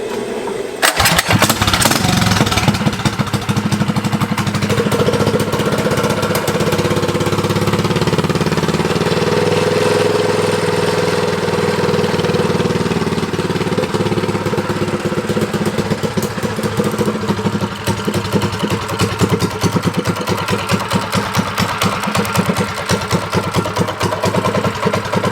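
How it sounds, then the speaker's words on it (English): An abandoned mini bike's small engine, left outside for two years, cranks and fires up, then settles into a loud, steady, rattling idle close by for over twenty seconds. "I'm gonna show you me starting the bike up real quick."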